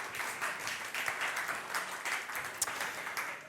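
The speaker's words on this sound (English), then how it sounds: "Can I ask for a round of applause" Continuous audience applause at a startup pitch battle event, a steady, moderately loud rain of clapping from a gathered crowd with a few sharper individual claps standing out.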